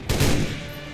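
One loud rifle report from a funeral honor volley, an abrupt near blast that rings out briefly and fades, with no talking over it.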